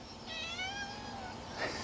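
A cat meows in a chicken-wired backyard enclosure in Arizona, giving one drawn-out, wavering meow over steady outdoor background noise, followed by a short second cry.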